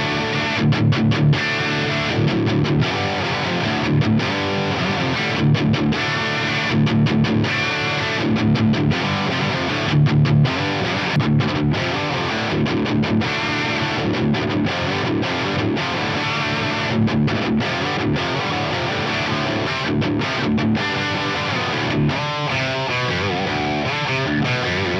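Electric guitar plays through a Tubescreamer-style overdrive pedal into a crunchy amp, a continuous gritty driven tone with chords and lead phrases, loud and alone.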